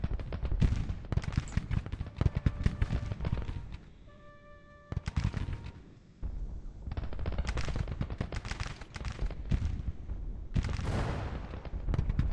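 Civil War battle gunfire in Grand Tactician, dense rapid volleys of cracking shots with heavier booms mixed in, loud and continuous apart from a brief lull near the middle.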